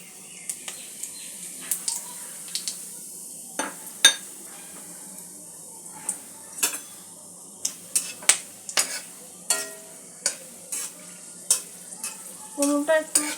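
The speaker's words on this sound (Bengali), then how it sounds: "ফোড়নটা একটু সুগন্ধ আসা পর্যন্ত ভেজে নেব" Whole cardamom, clove, cinnamon, dry chili, bay leaf and cumin fry in hot oil with a quiet background sizzle, broken by frequent sharp clicks and pops as a utensil stirs and scrapes the pan.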